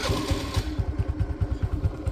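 A used vehicle's engine idles close by with a steady, low, rhythmic thumping pulse and light mechanical clatter, with no talking.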